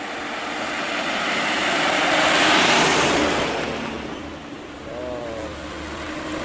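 A chili truck passes on a rural highway bend, its broad engine and tyre roar swelling to a peak and fading as it goes by, with a steady background rumble throughout.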